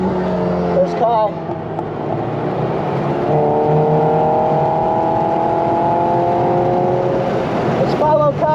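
A car driven hard on a race track with traction control off, its engine droning loud and steady as revs climb and hold, with tire and road roar underneath and voices talking over it.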